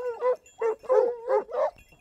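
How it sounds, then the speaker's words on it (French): Bruno du Jura hunting dogs bay on a hare's trail, giving about five rhythmic, tonal barks in quick succession at a moderate distance, with no talk over them. "Par contre, il y a les chiens sûrs qui ont aboyé"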